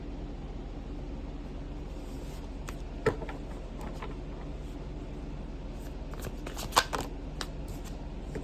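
A deck of cards shuffled close by, a soft continuous riffling with a couple of sharper snaps as the cards bridge and fall, with no talking.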